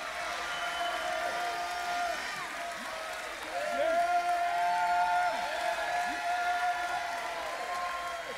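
A church congregation at a worship service breaks into applause and shouted praise, a dense sustained crowd roar that swells midway, with a sustained musical tone running beneath it.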